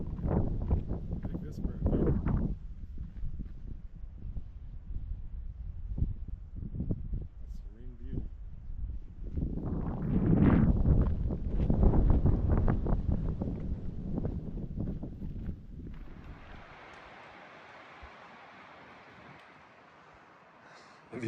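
Gusty wind buffets the microphone on a high mountain trail at Medicine Bow Peak, Wyoming, rumbling loudly in surges while a person talks over it, then easing to a fainter hiss near the end.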